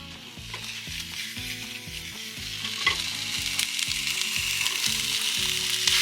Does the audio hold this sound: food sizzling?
yes